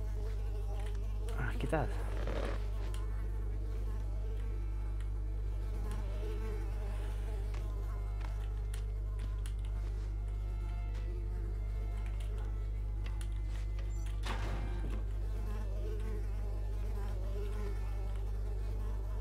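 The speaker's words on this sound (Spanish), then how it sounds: "Malditos mosquitos, de verdad." Mosquitoes buzz in the Unravel video game, a steady thin drone running through the whole passage beneath game music, with a few louder swells and a brief spoken greeting.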